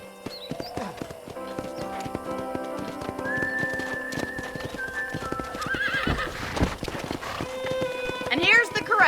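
Horses in the Red Dead Redemption game whinny and neigh over a steady clip-clop of hooves near a ranch corral, with a louder whinny near the end and voices talking throughout.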